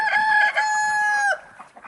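A rooster crows once, loud and close, in a long sustained cock-a-doodle-doo that ends abruptly, with faint farmyard clucking after it.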